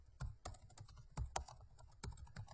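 Typing on a computer keyboard, short bursts of distinct clicking keystrokes in an uneven rhythm, close and fairly quiet with no voices.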